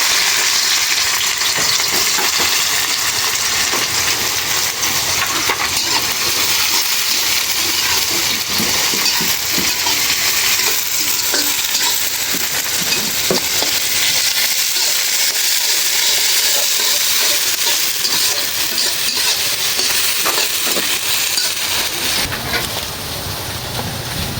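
Onion sizzles in a hot pan with cardamom and cinnamon, a loud, continuous frying hiss with scattered crackles and stirring scrapes, close up and with no talk.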